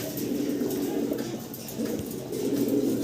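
Fancy pigeons at a farm coo in low, throaty, rolling calls, several birds close by and overlapping continuously.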